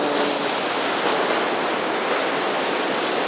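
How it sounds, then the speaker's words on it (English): Steady broadband roar of ocean surf breaking along a rocky California beach, loud and continuous with no voices. "Chillin'. The ocean."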